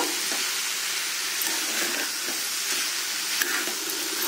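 Sliced bitter gourd and onions with salt frying in a pan, a loud dense sizzle running continuously with faint stirring knocks underneath.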